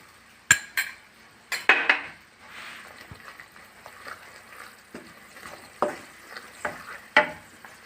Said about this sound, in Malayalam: അതിലേക്ക് നമുക്ക് ഒരു 1/2 സ്പൂൺ ഉലുവാപ്പൊടിയാണ് ചേർത്ത് കൊടുക്കുന്നുണ്ട്.